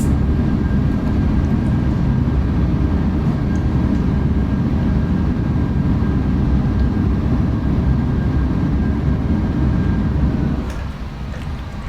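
Boeing 737-800 engines roaring at maximum reverse thrust during a brake-failure landing, a loud, steady, heavy rumble that holds until a sudden drop near the end.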